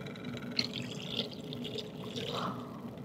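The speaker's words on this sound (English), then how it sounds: "Now let's add the Milk of Magnesia to our water." Milk of Magnesia poured into a container of water during a universal indicator chemistry demonstration. A soft, faint stream of liquid splashes and trickles steadily for a few seconds against a quiet room background.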